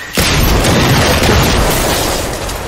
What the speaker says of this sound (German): ich habe aus Versehen das Auto in die Luft gesprengt